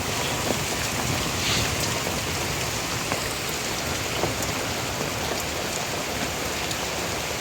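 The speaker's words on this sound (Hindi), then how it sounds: "भाई, बारिश बड़ी फुल तेज़ आते।" Heavy rain with hail pours down steadily in Lahore, a dense hiss of drops drumming on a surface with no break throughout.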